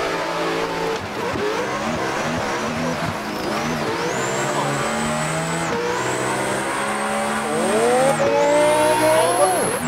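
A 5000 hp twin-turbo Jeep Trackhawk in a drag-racing video game roars at full throttle, its engine note climbing through gear changes in sustained, loud pulls, with voices talking over it.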